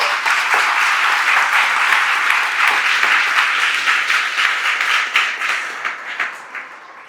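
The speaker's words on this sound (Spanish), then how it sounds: "Denle un aplauso a nuestro Dios." Congregation in an evangelical church breaking into sustained, dense applause that stays loud for several seconds, then thins into scattered claps near the end.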